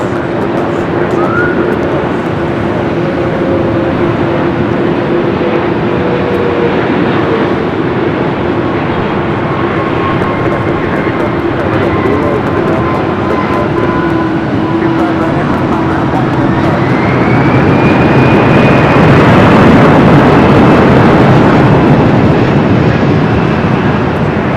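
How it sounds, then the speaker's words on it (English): An 18-year-old Cathay Pacific Boeing 777-300ER arriving from Hong Kong passes at LAX, with a broad, loud jet roar and whining engine tones that swell toward the end. Speech runs through it. "Cathay Pacific, flight 884, coming in from Hong Kong on an 18-year-old"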